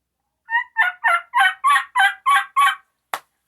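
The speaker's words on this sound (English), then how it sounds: "Hear that old boy gobbling to that now." A wild turkey gobbles out in the woods during a spring hunt, eight rapid, loud, clear gobbling bursts in a tight rhythm, followed by a single sharp snap, with no talking.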